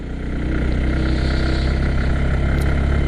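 A loaded motorcycle climbing a hill road to Sajek in second gear, the engine a loud, close, steady hum that builds slightly at the start and then runs at an even pitch.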